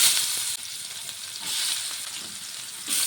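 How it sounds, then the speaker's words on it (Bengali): Chopped onions fry in hot oil left in the pan after fish, giving a steady, close hiss that dips briefly and swells back, with no talking. "পেঁয়াজটিকে একটু ভেজে নেব।"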